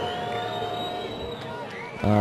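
Stadium crowd at a mixed ultimate frisbee final reacting unhappily to a referee's call, a steady distant murmur of booing and grumbling under a commentator's talk, with a louder burst of noise at the end.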